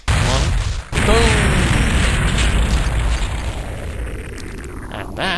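A loud, sustained explosion rumbles from The House of the Dead arcade game as a truck blows up in a fireworks-like blast, with a dense roar that dips briefly and then continues to the end.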